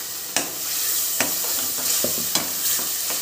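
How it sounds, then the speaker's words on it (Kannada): Ground spinach and coriander puree goes into a hot pan on medium flame, sizzling and frying steadily under sharp, repeated scrapes of a spoon stirring against the pan. "ಈಗ ರುಬ್ಬಿಟ್ಕೊಂಡಿದ್ವಲ್ಲ ಪ್ಯೂರಿ, ಅದನ್ನು ಹಾಕ್ಕೊಳ್ತಾ ಇದ್ದೀನಿ."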